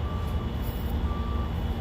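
A small bread truck reverses, its back-up alarm sounding as intermittent thin beeps over a low, constant rumble of street traffic.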